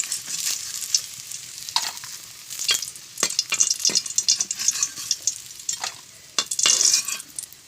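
Pakoras sizzle and crackle steadily in hot oil in a kadai, with scraping and clinking as they are stirred and lifted out, close and fairly loud throughout.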